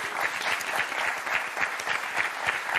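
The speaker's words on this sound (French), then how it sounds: "bravo, on applaudit Laurent Romeshko" A studio audience on the French TV game show Motus claps steadily, a full, continuous burst of applause with slight swells, close and with no voices over it.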